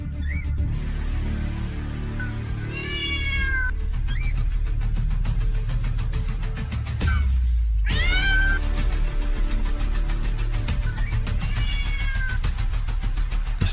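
A cartoon baby blue cat meows in terror, several rising, wavering cries scattered across the scene over a dense rumble of storm wind and rain through a rainforest, with one loud outburst in the middle.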